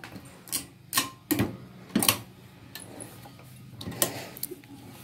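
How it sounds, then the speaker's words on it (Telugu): A sewing machine stitches across a uniform's half collar in short bursts, each run a close rapid mechanical whir separated by pauses. "నేను స్టిచ్ వేసుకుంటున్నానండి"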